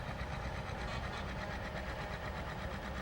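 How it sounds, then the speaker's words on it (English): A John Deere 820 tractor driven in a fall fair parade in Port Alberni, a dense continuous engine rumble with rapid rhythmic chugging, steady and fairly close throughout. "we have another John Deere 820, being driven by Stan Wood."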